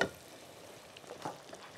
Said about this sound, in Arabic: هحمر البصلة